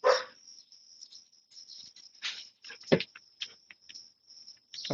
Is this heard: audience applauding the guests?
no